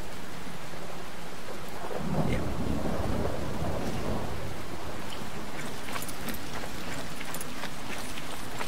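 Steady heavy rain hisses throughout while a low rolling thunder rumble swells in the middle and fades out, in the video game Fallout 4.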